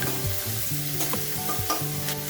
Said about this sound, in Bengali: পেঁয়াজটা দিয়ে দিয়েছি, পেঁয়াজটা হালকা ভেজে নেব।